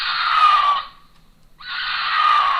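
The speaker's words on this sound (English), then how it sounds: "Mountain lion calls sound exactly like women screaming" A mountain lion gives two long, loud, screaming calls that sound much like a woman screaming, split by a short pause.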